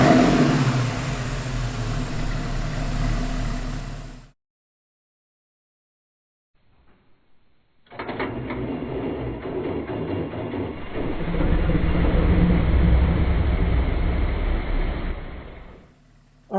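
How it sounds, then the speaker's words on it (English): A Porsche 911 engine with worn engine mounts starting and idling roughly with a deep rumbling shake, cutting off into silence, then a second start that rumbles and swells before stopping. "look at how the engine shakes on startup"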